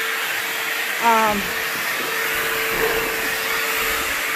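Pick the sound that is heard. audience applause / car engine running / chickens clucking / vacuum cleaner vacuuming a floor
vacuum cleaner vacuuming a floor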